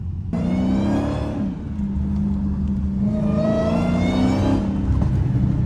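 A Dodge Hellcat V8 revving hard in the snow, two long, loud rising roars close by with a brief dip between them.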